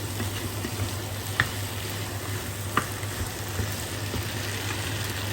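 Beef, one and a half kilograms, sizzling steadily in a pot for goulash, a soft even frying hiss with a couple of sharp ticks from stirring, no talk.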